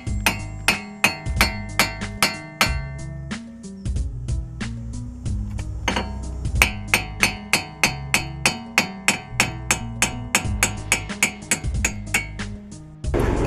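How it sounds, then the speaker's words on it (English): Rapid metallic hammer blows ring out as a wheel stud is knocked from a Subaru BRZ hub, a dense series of sharp clinks and bangs, loud and close, speeding into a quick steady rhythm toward the end. "he just hammered it right out"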